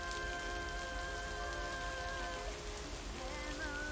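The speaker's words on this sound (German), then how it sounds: "Ich finde es nur recht laut, tatsächlich, den Regen." Steady, loud rain from a thunderstorm in the video game Lake, a dense continuous patter with sustained tonal ambience layered over it, with no voices.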